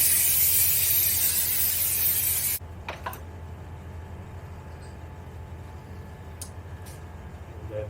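Aerosol spray hisses loudly and steadily onto a Honda VFR 800 motorcycle front brake for about two and a half seconds, then cuts off abruptly, leaving a quiet room with a few faint clicks.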